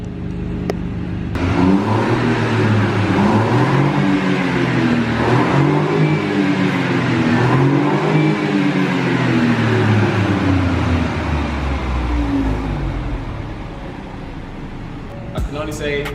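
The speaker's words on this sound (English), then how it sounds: "let's do an exhaust sound check" A 2018 BMW 118i M Sport Shadow Edition idles and revs with rising and falling engine and exhaust note in steady waves, loud and close, continuous for most of the stretch before easing off near the end.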